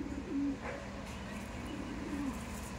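Kaldom pigeons being handled for sale give two soft, low coos close by, one early and one near the end, over a quiet background hum.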